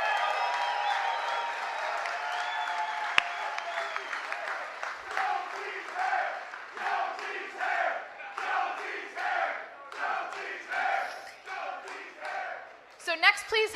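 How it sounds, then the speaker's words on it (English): A crowd at a Nashville SC MLS announcement event claps and cheers, a dense roar at first that turns into rhythmic, pulsing bursts of applause and shouting, fairly loud throughout. "Give them a round of applause."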